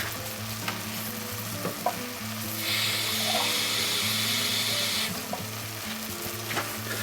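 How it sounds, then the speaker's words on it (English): Hot water poured over pulled beef pie filling sprinkled with a stock cube, a steady hissing pour lasting a couple of seconds at close range amid quiet kitchen background. "And then get some hot water."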